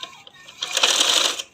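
A sewing machine stitches along folded fabric to lay a line of stitching over an earlier seam. It gives a short, close, whirring burst of about a second after a quieter lead-in.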